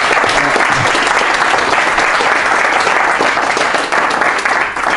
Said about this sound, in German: Also großen Applaus bitte.